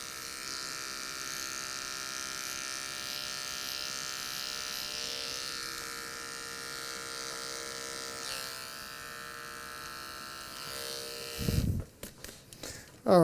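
An electric hair clipper hums steadily and close while fading hair around the edges of a man's haircut. The buzz runs unbroken for about eleven seconds, then stops, leaving a few clattering handling knocks.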